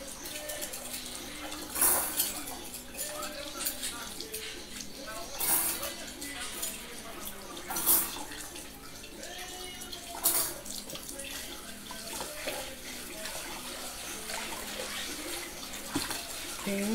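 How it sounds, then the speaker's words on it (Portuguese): Running tap water pours steadily over soapy dishes being rinsed in a kitchen sink, with occasional clinks of crockery and music playing faintly in the background. "já passei sabão numas loucinhas aqui. Vou enxaguar pra mim começar a temperar a minha canja."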